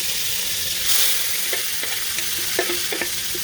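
Seasoning stirred and frying in a pan for brown stew chicken thighs: a steady close sizzle with several sharp spoon scrapes and clicks against the pan toward the end, no talking.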